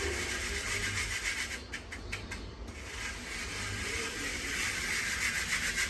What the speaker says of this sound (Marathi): आता हे सगळं पीठ चाळून घ्यायचं आपल्याला